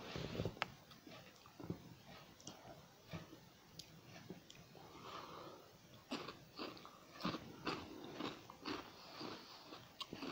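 Crunchy BBQ-flavoured Transform A Snack rings being eaten, with repeated close bites and chewing crunches in an irregular rhythm, faint breathing between them and no talk.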